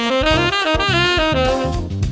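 A phrase played on the minor pentatonic scale, a run of quick, distinct notes with shifting pitches and a steady rhythm, loud and clear with no voices.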